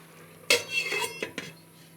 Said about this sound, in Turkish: Şimdi kapağını kapatacağız.